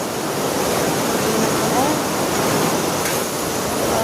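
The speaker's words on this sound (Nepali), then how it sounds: "यो खोला नरसिंहघाटको लागि नै हो" A mountain stream in Jajarkot, Nepal, flowing in the rain toward Narsinghghat: a loud, constant rushing roar of water that fills the whole short stretch with no breaks.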